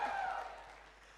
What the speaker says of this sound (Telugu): ఈ స్పందన వింటూ, ఈ క్లాప్స్ వింటూ